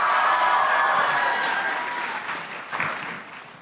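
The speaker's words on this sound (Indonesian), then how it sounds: "Mohon berikan tepuk tangan untuk Ustaz Dasat Latif." An audience at a motivational talk applauding a speaker's entrance, dense sustained clapping that gradually thins and fades over a few seconds, fairly loud with no talk over it.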